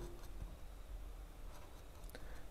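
Handwriting on paper while explaining a class 8 statistics exercise: faint, close scratchy pen strokes with a few sharper taps, heard in a quiet room without talking.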